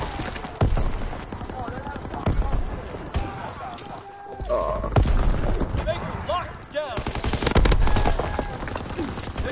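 Video game gunfire during a bomb-defusal match, with a player using a double-barrel shotgun: repeated sharp loud shots and rapid bursts mixed with game effects and footsteps, while someone talks over the action.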